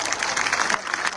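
Crowd applause at a political rally in North Nalbari, a brief, dense burst of many hands clapping together, loud and steady without speech on top.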